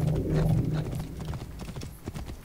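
Horse hooves clip-clopping at a gallop in Assassin's Creed Origins, a quick steady rhythm of hoofbeats close by and fairly loud across the whole stretch.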